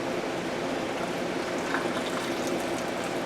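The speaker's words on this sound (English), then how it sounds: "Bring our water up to 1 inch from the top" Water pours steadily into a glass canning jar packed with potatoes, a continuous close splashing stream that lasts the whole moment with no talk over it.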